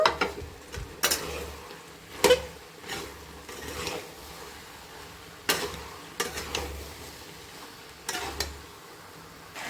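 Bean and potato sabzi with spices is stirred in a pan, giving intermittent scraping spoon strokes and soft clatter over a low, steady cooking sizzle, close and fairly quiet, with no talking.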